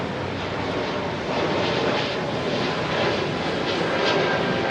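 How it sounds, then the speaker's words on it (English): A Lufthansa Airbus A320neo at London Heathrow, its engines giving a loud, steady broadband roar that swells slightly as the jet passes near. "lovely old liveried Lufthansa 320 Neo."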